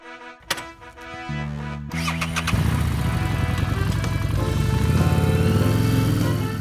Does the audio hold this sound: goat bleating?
no